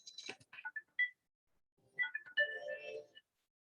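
A mobile phone ringtone, a short melodic run of electronic tones that plays in two bursts with a pause between, fairly faint, with no talk over it.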